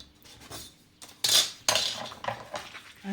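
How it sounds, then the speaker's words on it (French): A paper cutting machine trims paper for a handmade card, making a few short scraping and clicking strokes, close and fairly quiet, with brief pauses between cuts. "Ma machine a l'air de bien couper, mais à chaque fois je me retrouve avec des morceaux de papier un peu de travers."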